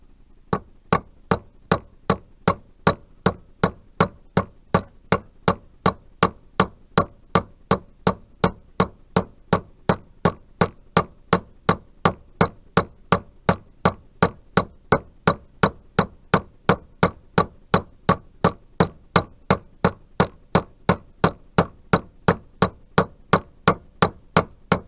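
Steady, evenly spaced hammer blows ring out one after another, dozens of sharp metallic strikes at a regular rhythm, close and loud, driving the crankshaft out of a 1988 Yamaha DT125R engine case.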